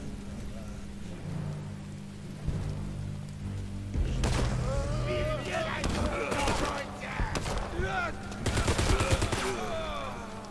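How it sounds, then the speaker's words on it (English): Rapid bursts of gunfire from the War Mongrels video game crackle in the second half, dense clustered shots over a steady background tone, with someone talking earlier. "Behind the fence, we open fire."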